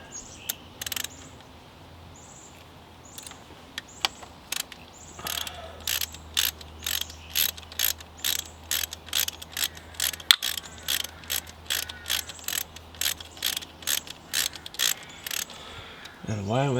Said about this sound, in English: then I'll just use a regular wrench for the ANs